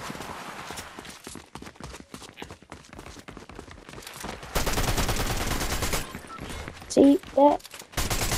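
Fortnite gunfire crackles in rapid bursts with dense automatic shots throughout, a louder sustained stretch midway, then a couple of sharp blasts near the end, while people talk casually over the game.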